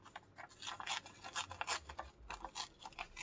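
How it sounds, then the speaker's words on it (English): Quick, close snipping and rubbing of scissors cutting a small piece of craft paper for a stamp embellishment, a rapid run of soft crisp cuts with no talking. "And we will cut a little piece"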